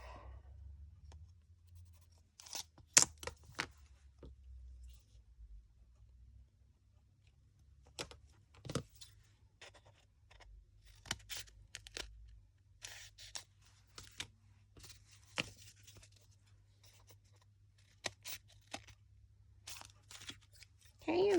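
Fabric for a quilt is cut with scattered short crisp snips and slices spaced over a quiet background, with brief bursts of cutting and pauses between them while a person talks now and then.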